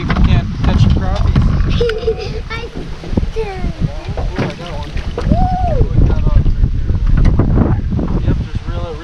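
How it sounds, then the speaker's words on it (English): Strong wind buffets the microphone continuously while fishing for crappies from a boat over stump piles, a loud steady rushing with water sounds, and someone talks throughout. "we're fighting some wind here"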